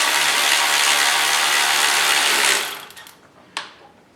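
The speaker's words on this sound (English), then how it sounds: "just go ahead and torque them down" A ratchet wrench tightens bolts on a bolt-in methanol injection kit for a 2015+ EcoBoost Mustang. A dense, rapid clicking runs loud and steady for about two and a half seconds, then fades, followed by one sharp click.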